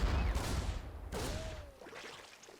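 Siege tank shelling a Zerg egg in StarCraft II, two loud booming impacts about a second apart with a rumbling low tail, faint game effects trailing off afterward.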